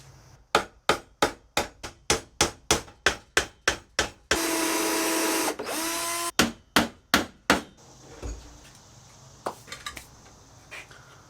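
Steady hammer blows drive nails into wood in quick succession while building a house, loud and close, interrupted by a burst of power drill whine pre-drilling holes, then more hammering and a few lighter knocks.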